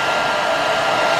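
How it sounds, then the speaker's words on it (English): A decent-sized hair dryer runs in a cruise ship cabin, a loud, steady close-up whoosh of blowing air and motor hum with no break or talk. "And then there's a decent sized hair dryer."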